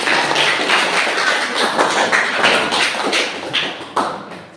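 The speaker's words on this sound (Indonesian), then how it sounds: "kita berikan aplaus" A classroom group applauds, a dense patter of hand claps that swells and thins over a few seconds and fades out toward the end, with no talking over it.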